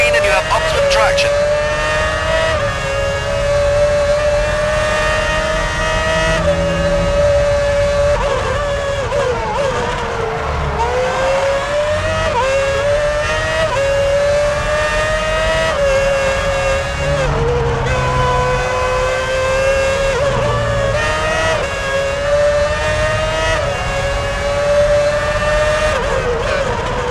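Formula 1 race cars in F1 2006 Championship Edition on PS3 at the Malaysian round, a loud sustained high engine whine with repeated rising and falling pitch sweeps as cars scream past, under a commentator's voice.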